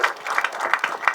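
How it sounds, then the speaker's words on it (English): Short burst of crowd applause at a Nairobi City Marathon launch event, uneven clapping with a few louder peaks, fairly close and alone without talk. "A round of applause for Ms. G."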